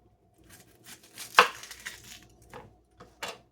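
A knife chops onions on a cutting board in a home kitchen. One loud, crisp chop stands out among softer, scattered cuts and board knocks, close by with no talking.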